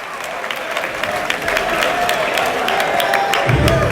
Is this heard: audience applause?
yes